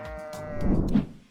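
Sheep bleating, a single close, wavering animal call that swells and fades with no voices around it.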